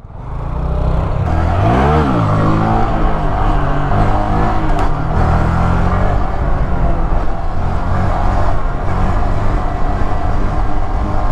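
A Honda Grom motorcycle engine climbs through the gears during stunt riding, with a steady, loud buzzing drone and a rising-falling sweep early on, running continuously throughout without speech.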